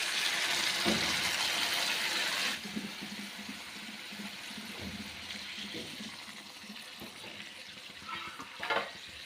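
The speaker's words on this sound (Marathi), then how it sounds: "तर हे पाणी आता आपण कारल्यामध्ये टाकूया" Water goes into a pan of stuffed bitter gourd with ground spice paste, a loud rushing splash for about two and a half seconds, then softer sizzling and scattered stirring clicks.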